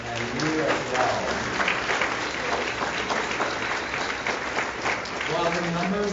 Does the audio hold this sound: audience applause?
yes